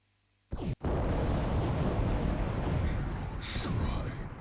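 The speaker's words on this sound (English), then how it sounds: "So you're shooting at my Warhound." Weapon fire aimed at a Warhound titan in the game Adeptus Titanicus: Dominus, a sudden loud blast followed by a sustained rumbling roar of explosions with a brief break just after the first hit.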